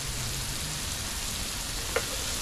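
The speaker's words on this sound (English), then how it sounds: "And then we're gonna saute these onions." Butter and a whole sweet onion sauté in a pan at a campground, a steady close sizzle with one small clink of a utensil partway through.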